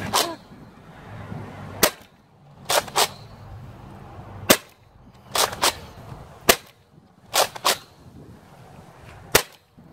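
A Nerf Rival K-26 Helios blaster fires rounds outdoors, sharp loud cracks in singles and quick pairs spaced a second or two apart, over low wind noise with no talking.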